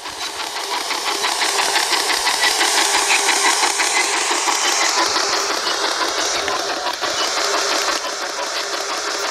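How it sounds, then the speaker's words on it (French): Another car passes during a paranormal investigation, its engine hum swelling gradually toward the middle and easing off near the end, heard on its own without talk. "Voiture, encore."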